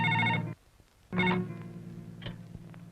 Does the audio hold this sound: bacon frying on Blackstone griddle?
no